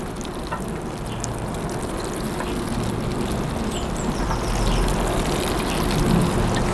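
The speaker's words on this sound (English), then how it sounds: "we can get some water and just give them all a nice good drink" Water poured from a can onto compost around freshly transplanted tomato seedlings, a steady close splashing and trickling that continues throughout and swells slightly toward the end, with no voices.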